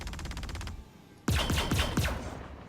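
Minigun fire from an Aegis Gladius fighter in Star Citizen: a short rapid rattle, a pause, then a loud burst of heavy booming shots with a roaring tail, close and with no voices.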